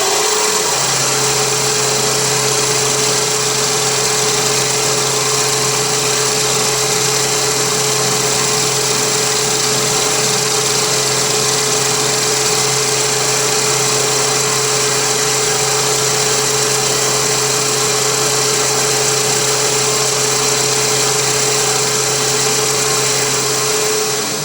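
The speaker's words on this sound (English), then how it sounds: "I'm going to swap over to a fly cutter and we'll machine that end" A fly cutter machines the end of a metal part for a sandblaster metering valve on a milling machine, a steady loud whine with a constant motor hum, running unbroken and with no talking.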